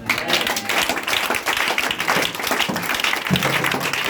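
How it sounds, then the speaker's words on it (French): A church congregation applauds and cheers steadily throughout, a dense continuous wash of clapping with a few louder bursts and some low voices mixed in. "Que je veux que tu acclames encore."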